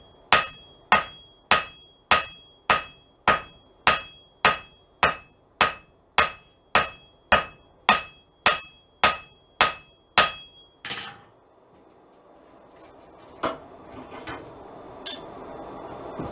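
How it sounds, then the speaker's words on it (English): Regular hammer blows on hot metal at an anvil edge while drawing out a forged stem, about seventeen loud ringing strikes in steady rhythm, then a pause and a few scattered lighter taps and clanks. "So now we're going to go back to the edge of our anvil and start to draw out the stem."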